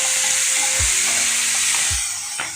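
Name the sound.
tomatoes added to sautéed onions, sizzling in pan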